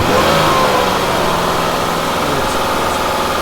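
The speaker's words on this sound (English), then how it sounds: "I think I'll just disconnect the IAC and snap the throttle and see how it returns." A Ford Escape engine with the idle air control valve disconnected, held at a loud, steady high rev just after a throttle snap, a continuous close drone with no talking.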